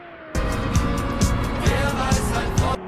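A Porsche road car braking hard on a race track, a loud sustained engine and tire roar with a few repeated sharp bursts, close and alone without talk.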